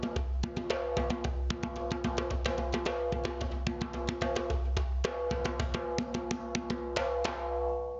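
A rapid flurry of djembe strikes, each leaving a sustained ringing metallic overtone from the untuned drum that hums beneath the steady rhythmic hits.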